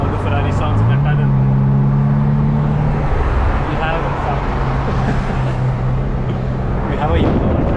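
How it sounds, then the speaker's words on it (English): Ferrari engine droning steadily while driving through a tunnel, a loud continuous low rumble with a rising then settling tone that reverberates throughout, with a voice talking over it. "Let's hear all the Ferrari sounds in the tunnel."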